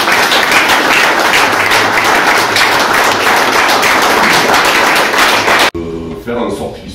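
Steady applause from a gathered audience fills a town hall reception honoring a basketball team, loud and continuous for several seconds before cutting off abruptly, followed by a person speaking.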